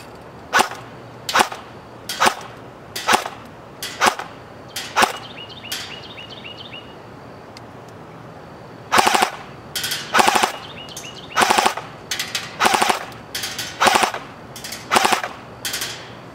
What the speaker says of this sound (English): Same thing, a couple of semi-auto shots and then full auto burst.